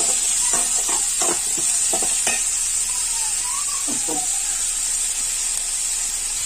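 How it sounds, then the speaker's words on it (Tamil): Onion, garlic and tomato sauté in a pan for a broad-bean kuzhambu, giving a constant bright sizzle with several quick spoon scrapes and knocks early on, then an even hiss. "இப்போ பூண்டு சேர்த்துக்கலாம் நல்லா வதக்கி விட்டுக்கலாம் தக்காளி சேர்த்துக்கலாம்"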